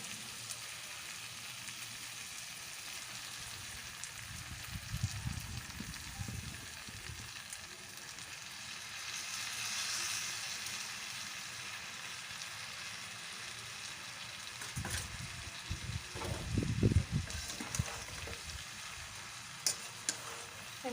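Cabbage sizzling in spiced oil in a pan, a soft steady fry with bursts of stirring and scraping, fairly quiet and close with no talking.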